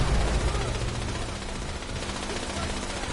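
Automated turrets open fire in Fallout 76, a sustained rattle of rapid shots running the whole stretch with other voices audible underneath.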